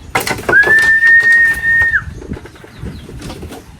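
A bird's single sustained, steady whistle held for about a second and a half, loud and close, with faint background rustle around it, near a fishpond hut.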